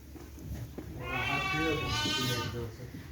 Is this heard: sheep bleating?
yes